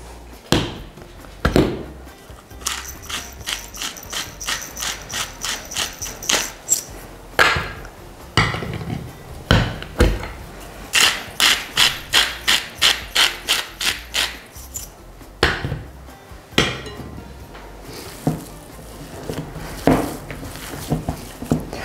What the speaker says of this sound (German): Und dann kneten wir